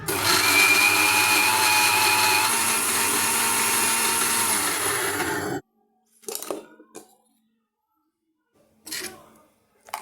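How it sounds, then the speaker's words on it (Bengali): A blender grinds chopped taro into a thick paste for Bengali kochu bata, a loud, steady motor whine for about five seconds that cuts off abruptly, followed by a few short clatters of the jar and lid. "কুচিয়ে রাখা কচু সব একসাথে ব্লেন্ড করলে আমাদের কচু বাটা রেডি"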